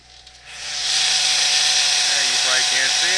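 A nitro engine on a Sen 7.7 RC vehicle being broken in rises into a steady, loud high-pitched buzzing whine that holds for several seconds, with a faint voice briefly underneath near the end.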